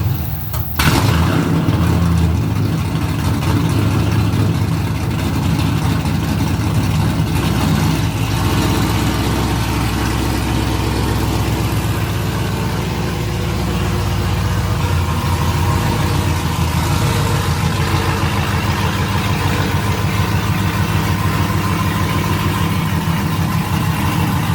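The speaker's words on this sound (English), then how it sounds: "I'm gonna take my truck out and then turn this one around and then put it in the garage." A 2010 pickup truck on 22-inch wheels starts up and runs, its engine settling into a loud, close, steady rumble with a deep low drone, then rising slightly as it pulls away.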